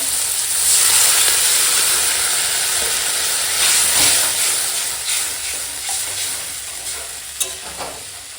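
Water poured into a hot pan of fried spice paste stuck to the bottom, for a Bengali fish curry, sets off a loud, close, continuous sizzling hiss of steam that gradually eases, with no talk.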